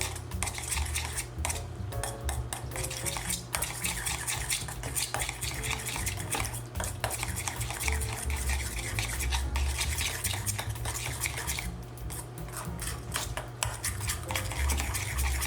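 Minced garlic, anchovy paste and freshly grated parmigiano reggiano being mixed in a bowl for Caesar salad dressing, a continuous rhythmic scraping and clinking of a utensil against the bowl, close and steady, with no talk.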